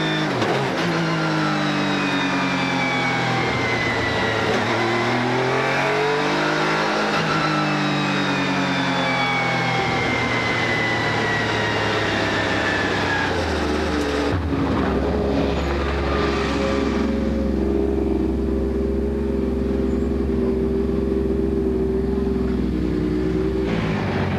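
Opel Calibra DTM race car driving on a track, its engine loud and close as it revs up and down through gears, then settling into a lower, steadier drone near the end.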